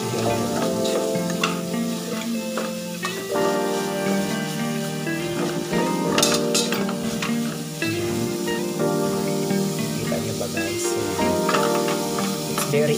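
Chicken being stirred and fried in oil in a pot for sopas: a continuous sizzle and hiss with occasional scraping bursts, set under a steady tonal musical backing, with no talking.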